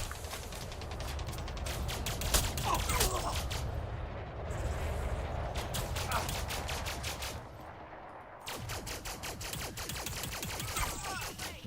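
A ship's weapon fires in Elite Dangerous during a fight near a settlement landing pad, as a long unbroken run of rapid shots with a mechanical hum beneath and a short lull partway through.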